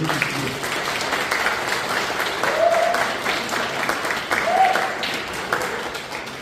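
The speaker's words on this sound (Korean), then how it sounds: "한번 박수로 여러분들 해주시죠." An audience applauds at a lecture on barefoot walking in Korea, a steady patter of many hands clapping for several seconds, moderately close, with no talking over it.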